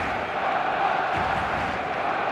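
Stadium crowd in the football video game eFootball, a dense continuous roar of many voices building steadily, with a faint commentator voice underneath.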